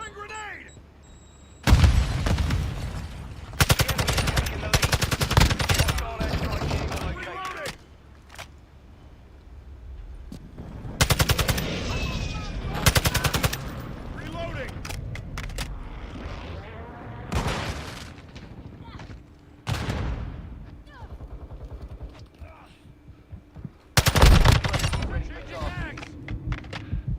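TAQ-56 rifle gunfire in Call of Duty Modern Warfare II comes in repeated loud bursts separated by quieter gaps, with game voices and background battle noise around them.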